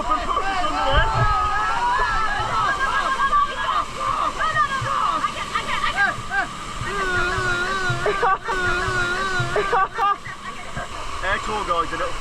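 Rafting under a waterfall in Bali, with rushing, sloshing water pounding steadily throughout and people shouting and talking over the roar.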